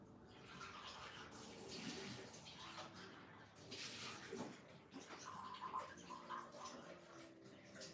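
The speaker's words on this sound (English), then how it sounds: "Now I'm just going to go and change my water." Tap water runs steadily into a container while rinsing out paint water at an art table, a continuous splashing flow heard close up with no talk.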